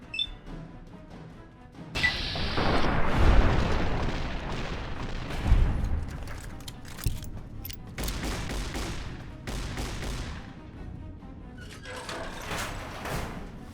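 Gunfire and explosions in Fallout: New Vegas, a dense burst of booming shots and blasts that rumbles on for several seconds, followed by scattered sharper cracks and lighter gunfire, no talk.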